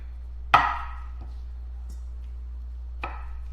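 Wood ear mushrooms are cut into bite-size pieces on a board, two sharp close knife chops with faint taps between them, otherwise quiet.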